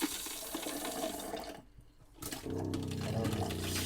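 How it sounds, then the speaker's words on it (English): Water runs steadily from a kitchen sink faucet in an RV being dewinterized, with the water pump running, a brief quieter gap, then the flow resumes stronger with a low pump hum beneath it. "The pump is on. You can hear it running."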